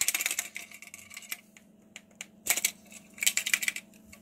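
A broken old landline phone with a loose internal speaker is shaken, giving irregular bursts of light clattering and rattling with short quiet gaps between them.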